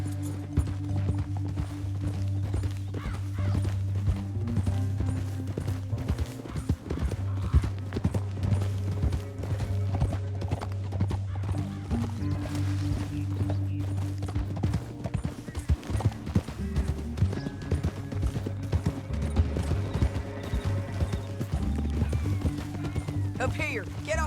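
Horses in Red Dead Redemption 2 riding through a canyon, rapid hoofbeats clattering steadily under a music score and intermittent speech throughout.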